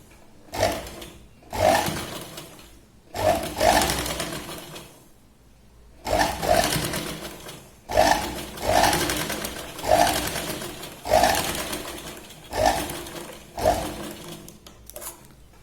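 A sewing machine stitches a katori blouse in repeated bursts of whirring, each a second or so long, separated by short pauses, close and steady with no talk.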